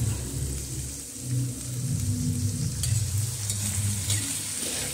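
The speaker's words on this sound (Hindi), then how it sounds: "अच्छे से तेल में फ्राई कर लेंगे अपने कद्दू को, उलट पलट के अच्छे से हमने कद्दू को फ्राई कर लेंगे" Pumpkin pieces fry in hot oil over a high flame for a spiced kaddu sabzi, with a continuous close sizzle and steady scraping and stirring throughout. No one speaks.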